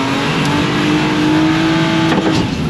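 Car lapping a race track during stunt driving, its engine a loud, steady close drone throughout with no clearly separate braking moment.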